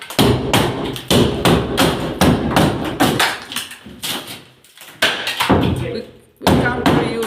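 Rotten wood knocked down from the top on a farm in Northern Portugal, giving repeated heavy hammering thumps and thunks at close range, some in quick bursts, with people talking between the blows.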